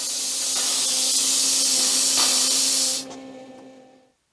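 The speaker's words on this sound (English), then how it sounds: "now we've got the airline hooked up and the compressor pumped up to 40 psi, water tank drained" Compressed air at 40 psi blows out the water lines of a Cougar fifth wheel RV trailer after the tank is drained, giving a loud, steady broadband hiss for about three seconds that then cuts off, leaving a faint tail.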